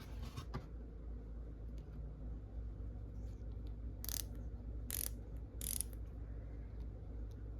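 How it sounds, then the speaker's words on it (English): A flex head ratchet gives a few quick, sharp clicks early on, followed later by three crisp, louder ratcheting bursts over a low background hum, close and fairly quiet overall. "here's our little ratcheting part"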